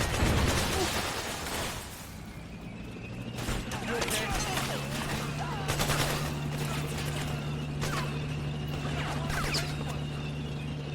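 Enemy soldiers in Metal Gear Solid 4 fire their guns in sharp bursts of overlapping shots at medium distance. The bursts repeat irregularly over a steady low mechanical hum, with a player talking intermittently in the background.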